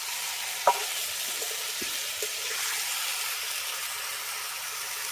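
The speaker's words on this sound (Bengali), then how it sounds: "মশলার সঙ্গে মাংস আর আলু খুব ভালো করে কষিয়ে নিয়েছি" Meat and potatoes frying with spices in a pan for Bengali kosha mangsho, a soft steady sizzle with a few light stirring taps, quiet and continuous with no voices.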